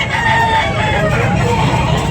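A rooster crows amid the din of a rooster sale at Tabunok, Talisay, its call rising over a steady, crowded market noise that fills the whole stretch.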